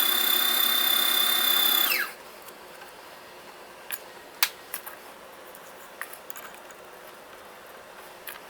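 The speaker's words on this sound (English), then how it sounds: "I'm going to drill holes" Power drill fitted with a chuck for drilling holes in a dozer build, a loud steady high whine for about two seconds that winds down and stops, followed by quiet with scattered small clicks and knocks.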